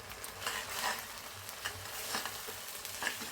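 Spices sizzling in oil in a pan, chili powder, turmeric and ginger frying for a village-style rohu fish curry with stalks and jackfruit seeds; a steady crackling hiss with a few brief stirring scrapes, close and moderately loud, no voices.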